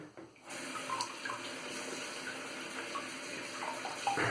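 Tap water runs steadily from a faucet into a sink while a floppy shaving brush is rinsed, a close continuous splashing stream that starts after a brief quiet moment.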